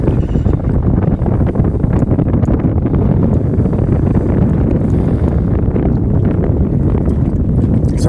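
Constant, heavy wind buffets the microphone on a fishing boat throughout, a loud low rumble with no pauses and no voices.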